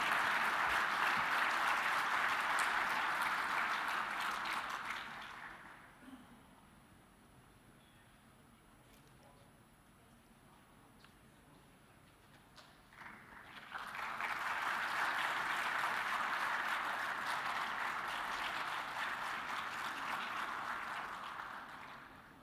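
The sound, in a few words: audience round of applause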